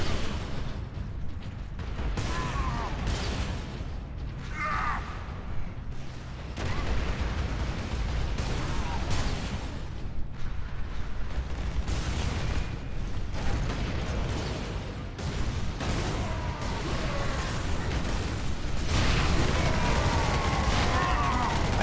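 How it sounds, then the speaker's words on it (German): Melta gun shots from the Space Marine 40k video game in versus multiplayer mode, heavy bursts and booms repeating among mechanical clanks and battle noise, with no talk. "Und ich habe dem zwei Melterschüsse gedrückt."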